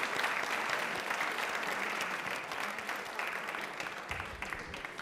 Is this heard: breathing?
no